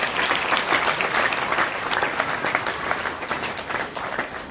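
Dense, steady applause from an audience honoring winning students at a certificate ceremony, many hands clapping continuously at even loudness throughout.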